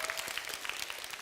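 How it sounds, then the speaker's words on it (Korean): A church youth audience bursts into a short round of brisk, close applause, dense clapping filling the whole moment. "이런 거 박수 쳐줘야 되잖아요."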